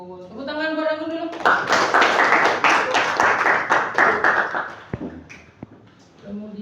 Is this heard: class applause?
yes